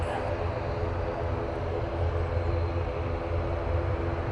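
An ATR turboprop aircraft at Manchester Airport gives off a loud, steady engine drone with a low rumble that holds evenly throughout, with no other sounds standing out.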